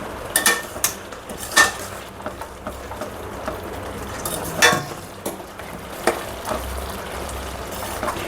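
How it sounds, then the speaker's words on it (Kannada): A spoon scrapes and knocks against a pan while chickpea masala is stirred, giving scattered clinks and soft scraping strokes with a light sizzle beneath, close by and with no talking. "ಮತ್ತು ಮಿಕ್ಸ್ ಮಾಡುವ."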